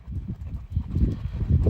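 A green horse's hooves clip-clop steadily in an uneven rhythm as it is ridden, close and fairly loud, with no talking over the footfalls.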